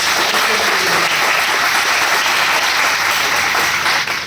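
A large seminar audience at a Vestige business event bursts into loud, sustained applause, a dense steady wash of clapping that fills the whole stretch with no speech over it.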